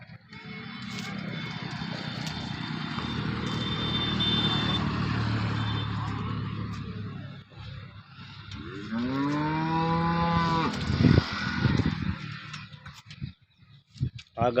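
A single long low moo from a recently calved milk cow at a cattle trading place in Tharad, Banaskantha, rises near the end after a steady engine-like drone; a few faint voices and knocks follow.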